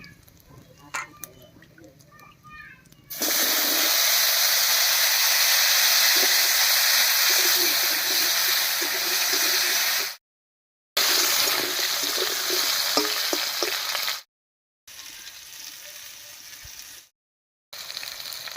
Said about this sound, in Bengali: ফোড়নটা ভাজা হয়ে গেছে এবার এর মধ্যে দেব কেটে রাখা আলু